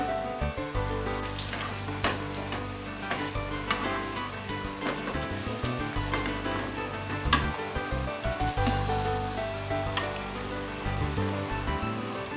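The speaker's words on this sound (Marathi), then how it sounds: "आणि हे सुद्धा आपल्याला सगळे गोल्डन ब्राऊन कलरचे होईपर्यंत तळून घ्यायचे." Colocasia leaf rolls (alu vadi) deep fry in hot oil, a steady dense sizzle and crackle that runs without a break and with no voices.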